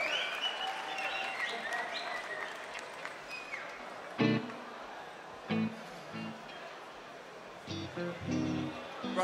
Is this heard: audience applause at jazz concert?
yes